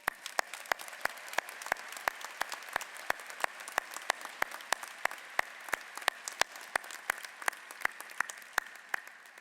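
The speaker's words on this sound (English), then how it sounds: "I propose a round of applause for everyone who has contributed to the success and the achievements of our graduates." Audience applause fills a university graduate commencement ceremony in Seattle, a steady wash of many hands clapping with sharp individual claps standing out, sustained and fairly even throughout without speech.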